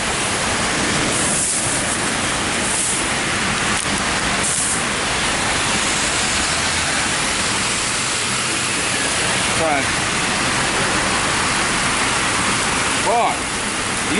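Heavy rain pours down in a steady, loud broadband hiss that fills the whole stretch without a break, with a few faint knocks and people talking now and then underneath.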